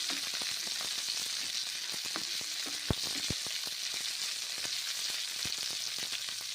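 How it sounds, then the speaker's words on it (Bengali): A whole small tomato fries in a pan with a steady sizzling hiss, punctuated by sharp pops and crackles from the hot oil, close and alone without speech. "টমেটো দিলাম একটা গোটা, ছোটো সাইজের, ভেজে নিচ্ছি।"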